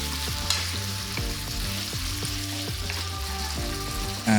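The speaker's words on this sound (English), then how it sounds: "Adding lamb. I'm going to saute it for about 5 minutes first." Fatty lamb sautés in extra virgin olive oil in a pan on fairly high heat, with a continuous dense sizzle and occasional stirring scrapes, close and even, ending in a brief louder burst.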